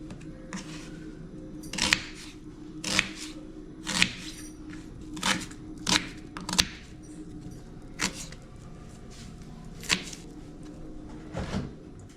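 Sharp knife chops on a board while carrot and ginger are cut for a chutney, about a dozen crisp, irregular strikes over a low background hum.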